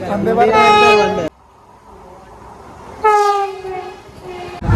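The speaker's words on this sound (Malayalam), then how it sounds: "നമ്മൾ ഒരു ട്രെയിൻ വന്നുകൊണ്ടിരിക്കുന്നുണ്ട്." A train horn blares loudly twice with a quieter rumbling pause between, as the train approaches close by, arriving at a station.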